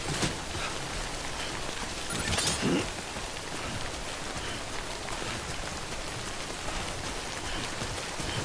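Steady rainfall patters continuously in the video game Death Stranding, a dense even hiss of drops with a brief brighter splash partway through.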